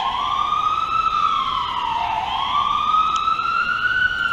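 An emergency vehicle siren wails through a residential neighborhood, a loud, close, steady rising-and-falling tone over faint traffic rumble.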